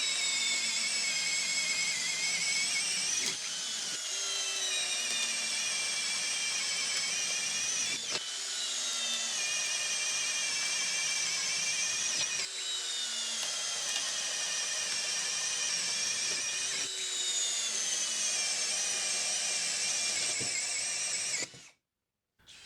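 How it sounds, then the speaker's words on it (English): A DCK 12 volt brushless drill drives a 1/2 inch spade bit through softwood at low speed, a steady high whine repeated in about five long bursts with brief pauses between them, loud and close. "we're going to raise it up a level to 1/2 inch spade bit through some soft wood"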